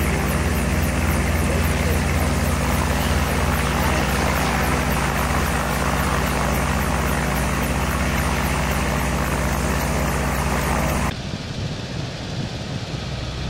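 De Havilland Tiger Moth biplane in flight, its engine and propeller making a loud, steady droning roar heard from the cockpit, with voices talking intermittently over it until the noise drops sharply near the end.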